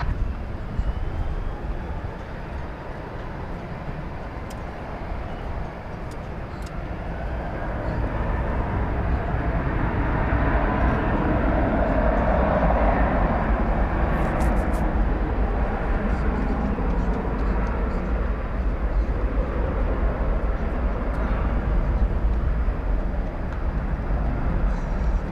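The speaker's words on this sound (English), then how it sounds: "Got American Flight 1683 going to Salt Lake City here." An American Airlines Airbus A321 jet airliner at Dallas Fort Worth airport gives off a long, rising engine roar, heard from a distance, that builds and holds at a steady, loud level.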